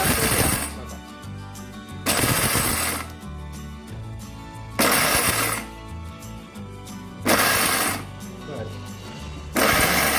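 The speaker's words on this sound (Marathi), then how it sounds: "आम्ही पाच चमचे शेंगदाणे आम्ही मिक्सरच्या भांड्यात टाकले आहेत बघा मिक्सर बंद चालू करत" A mixer grinder pulses five spoonfuls of peanuts into powder in short loud bursts, about four roughly two-second runs separated by brief pauses, close and dominant throughout.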